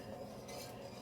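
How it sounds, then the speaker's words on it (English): A whisk works a milk and flour sauce in a pan, producing a faint, steady, continuous swishing scrape with no pauses and no voices. "you want to keep whisking a little bit so you make sure you don't have any lumps from the flour in your sauce"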